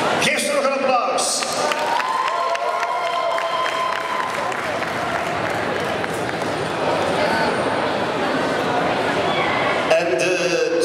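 Sustained applause from an audience at the Antwerp Convention 2013 cosplay competition awards, dense steady clapping filling the room with a brief voice at the start and end.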